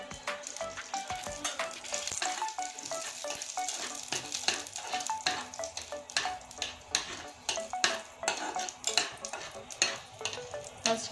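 Radhuni seeds tempering in hot oil give a continuous crackly sizzle, broken by frequent rapid taps and scrapes of a spoon against the pan.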